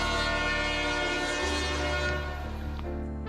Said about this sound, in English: trains love blowing their horns, especially at night around campgrounds